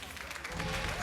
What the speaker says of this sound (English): The clapping is enough.